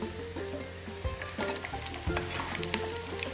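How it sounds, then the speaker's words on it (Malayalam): Tuna fish pieces frying in oil to make pickle, a steady close sizzle with scattered pops and occasional stirring clatter, no one talking. "നമ്മുടെ മീനിൻ്റെ കഷ്ണങ്ങൾ നന്നായി മൊരിയണം."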